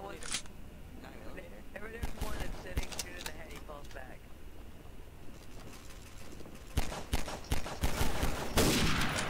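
Gunfire in a WWII roleplay video game, with scattered shots and short bursts, some near and sharp, others farther off, growing heavier toward the end. A voice talks intermittently over the shooting.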